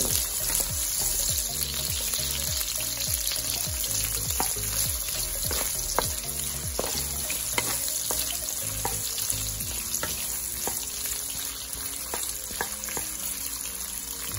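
Cooking oil sizzles and crackles steadily in a pan at the start of making menudo, a dense continuous frying hiss with occasional stirring clicks and scrapes close by, no voices.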